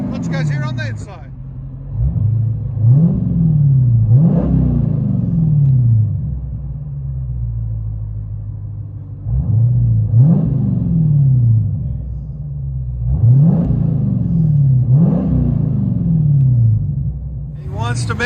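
A 2021 Dodge Challenger Scat Pack with a 6.4L HEMI V8 and dual exhaust revs in repeated loud, deep rising-and-falling bursts close by, several throttle blips in a row, with a brief voice heard at the start.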